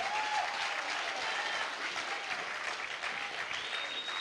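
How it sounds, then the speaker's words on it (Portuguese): A church congregation breaks into steady, dense applause during a sermon, sustained throughout with faint voices and a brief whoop rising above the clapping. "Dá uma salva de palmas ao Senhor."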